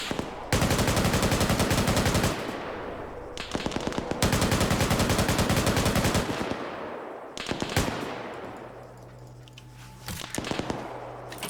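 Rapid automatic gunfire in the military shooter Arma 3, loud close bursts of several seconds each separated by short pauses, then scattered single shots and distant echoes trailing off.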